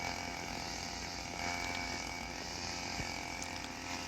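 A grass cutter runs steadily while clearing grass on a farm, its motor a continuous loud buzzing drone with no pauses and no talking.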